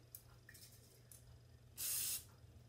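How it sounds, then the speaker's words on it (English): Cooking spray hisses from a can into ramekins in a single short, fairly sharp burst, heard alone against a quiet kitchen background. "Give your ramekins a little spray."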